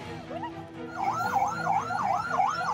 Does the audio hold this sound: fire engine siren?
yes